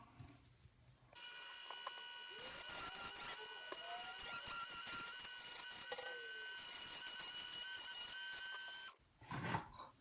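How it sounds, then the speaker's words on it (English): A Dremel rotary tool grinds a metal fidget spinner, its shrill, steady high-pitched whine holding for about eight seconds at close range, with small shifts in pitch as the tool bites, then stopping abruptly. "So I'm going to do the other 2 with the Dremel tool."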